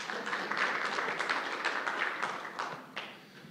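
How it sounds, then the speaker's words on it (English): Church audience applauding prayer warriors, a fairly close burst of many hands clapping with some distinct individual claps standing out, steady at first and then tapering off near the end. "Give applause for prayer warriors in the house."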